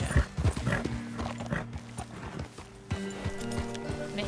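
Horse hooves clip-clop in a steady rhythm in Red Dead Redemption 2, with a whinny and ambient game music humming underneath.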